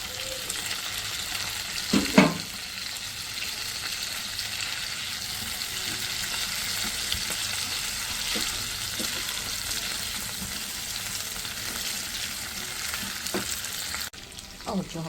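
Chicken wings fry with garlic in a pan, a steady close hiss and sizzle running throughout, broken by a few clinks and stirring knocks.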